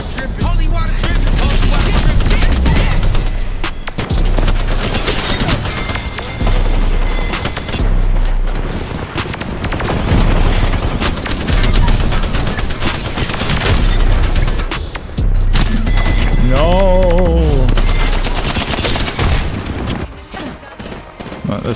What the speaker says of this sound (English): Oh, I have a machine gun?